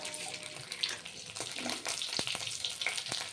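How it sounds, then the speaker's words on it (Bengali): Dried red chillies, bay leaf and whole cumin tempering in hot oil, a soft bubbling sizzle with light crackles and a few sharper pops, quiet and close. "এবার দুটো শুকনো লঙ্কা আর তেজপাতা ফোড়নে দিলাম, আর দিয়ে দেব গোটা জিরে ফোড়নে।"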